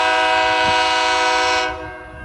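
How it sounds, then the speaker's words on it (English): A single railway engine on a terminal railway sounds its horn loudly and close, a sustained harmonic blast that cuts off near the end, leaving low rumble. "Oh, I think this is my green train."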